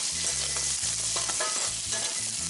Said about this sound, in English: I'm actually going to add the ginger first and let that cook for about a minute or so.